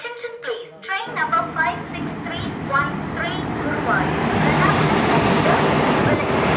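A passenger train bound for Kochi rumbles along in a steady, loud roar of wheels and carriage noise that builds and holds after a brief quiet opening, with chirping sounds at the start.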